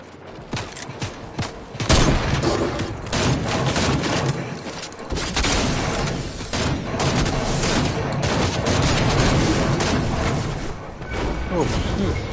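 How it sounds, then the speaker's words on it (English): Firecrackers crackle and pop in an open field in rapid, irregular bursts of sharp bangs that run on for several seconds, loud and close, with voices talking in between. "I'm just trying to set the firecracker in our thing right there."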